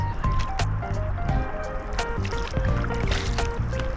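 Water splashing and gurgling close by as an inner tube is paddled down a river with small rapids, with continuous dripping and sloshing and no pauses.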